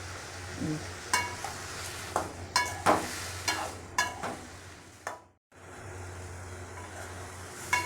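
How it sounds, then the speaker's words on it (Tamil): Tomatoes and onions sautéing with salt in a pan for Tamil mustard chutney, with steady frying crackle punctuated by several sharp stirring scrapes and clinks, one brief gap near the middle. "தக்காளி வெங்காயம் நல்லா வதங்கிருச்சு"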